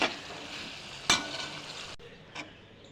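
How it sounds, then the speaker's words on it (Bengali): Chicken sizzling in a pan with salt and ginger garlic paste while being stirred for haleem, faint and close, with a couple of sharp scrapes from the spoon. "নুন আর আদা রসুন বাটা ভালো করে একটু কষিয়ে নেব।"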